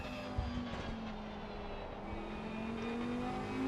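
Lamborghini GT3 race car engine heard from the cockpit in Assetto Corsa Competizione at the Nürburgring, a steady loud drone holding pitch and slowly rising, with faint whine and another car audible.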